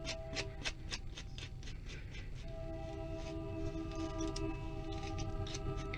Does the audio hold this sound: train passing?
yes